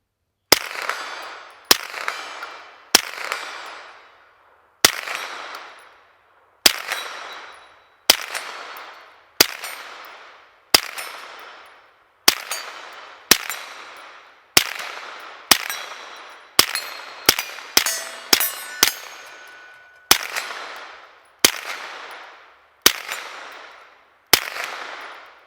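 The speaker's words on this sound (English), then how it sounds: "let's load up some 9mm tracers here, and let's just do some plinking here. See if I can hit the steel a few times." About twenty sharp 9mm tracer gunshots fired in an irregular string at a steel plinking target, each crack followed by a ringing metallic clang and a short decay, with some quick bursts close together near the middle.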